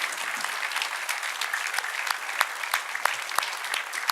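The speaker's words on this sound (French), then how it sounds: "allez, vous pouvez vous applaudir" An audience from the Pietralba school in Ajaccio applauds at an evening event, with steady dense clapping and sharp individual claps standing out, heard from within the crowd and sustained throughout.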